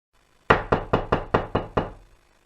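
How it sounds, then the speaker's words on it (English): Seven sharp knocks on a wooden house door in a city, struck in a steady, fairly quick rhythm, loud and close with nothing else heard. "they knocked on the door"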